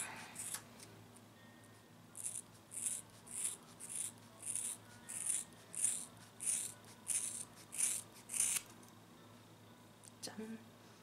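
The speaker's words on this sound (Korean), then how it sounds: "확실히 미용가위가 잘 잘리는구나." Hairdressing scissors cut through a person's own hair for a bob, about a dozen crisp, evenly spaced snips close by in a steady rhythm before stopping.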